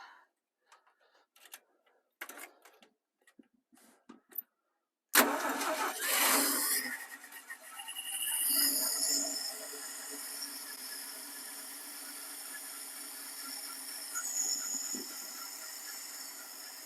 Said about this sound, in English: Alright, well that's idling right away.